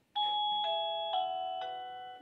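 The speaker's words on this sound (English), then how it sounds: "that's one that I chose for my front door, just a normal kind of what you hear a lot with doorbells" A wireless long-range battery doorbell chime plays four clear ringing bell tones at a steady pace, each one bright and ringing on, loud and close with no other sound.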